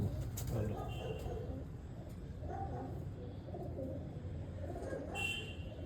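A Sialkoti pigeon coos in low, rolling bursts, fairly faint and close, with a few brighter chirps and steady background noise between calls.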